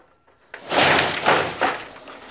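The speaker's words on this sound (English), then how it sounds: "you shut the door pretty quickly" A kennel crate door is shut quickly, a sudden loud clatter after brief quiet, followed by a couple of rattling knocks as the door settles.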